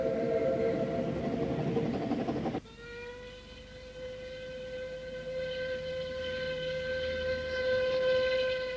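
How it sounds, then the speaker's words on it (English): Steam locomotive train on the Ffestiniog Railway in Wales, a loud rumbling run that abruptly gives way to a steady tonal whine with faint rolling noise, no voices. "he's now the oldest steam loco in the world, still operating on its original line."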